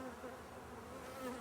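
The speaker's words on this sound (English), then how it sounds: "There are an enormous amount of bees in the hive" Honey bees swarm densely inside a diseased, heavily propolised hive, giving a steady, close droning hum that holds evenly throughout without any voices.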